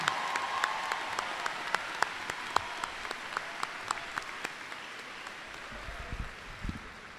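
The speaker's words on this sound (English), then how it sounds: "Let's give them a big round of applause." Class of 2018 graduation ceremony crowd applauding, a soft, broad patter of clapping from a distant audience with a few sharp nearby claps popping out.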